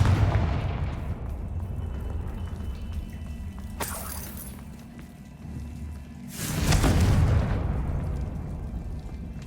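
Confringo fire-blast spell in Hogwarts Legacy: two loud bursting blasts with broad crackling debris, one sharp impact near the start and a bigger, longer explosion later, over a low rumbling ambient background.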